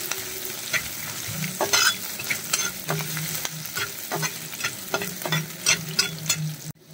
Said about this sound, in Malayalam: ഇതിന്റെ പച്ചമണം മാറുന്നത് വരെ നമ്മളൊന്ന് വഴറ്റി കൊടുക്കണം.